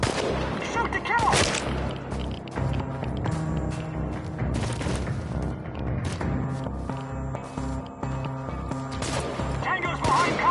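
Gunfire in Chernobylite booms out in repeated heavy shots and bursts amid combat noise and a music score, loud and close, with voices shouting over the fighting.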